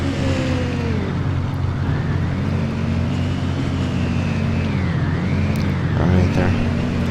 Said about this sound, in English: That truck noise is kind of annoying.